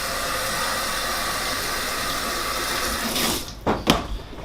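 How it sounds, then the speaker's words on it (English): Cold water rushing through an aquarium hose, a steady loud gushing hiss that cuts off near the end, followed by a few brief knocks and splashes. "Then I run cold through it for a bit."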